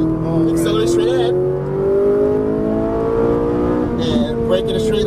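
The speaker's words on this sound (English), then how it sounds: "squeeze the throttle, and accelerate out to the right" A Ferrari 458 Italia accelerating on a track in Las Vegas, its engine note rising steadily and loud throughout, with an instructor's voice talking over it.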